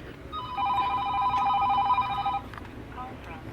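A phone rings with a steady electronic tone lasting about two seconds over low room noise, close and clear.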